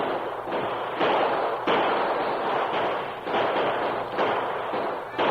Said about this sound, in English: Now open fire and keep it up.